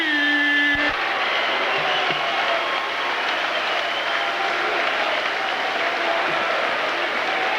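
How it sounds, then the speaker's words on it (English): A boxing arena crowd applauds loudly and steadily after a WBO super middleweight title fight, a dense roar of clapping that follows a brief tone and carries on unbroken to the end. "And a round of applause"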